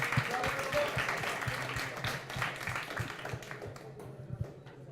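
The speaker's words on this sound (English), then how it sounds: "They won, so maybe some applause." An audience at a tech meetup applauds in a dense, steady patter of clapping that gradually thins and fades toward the end.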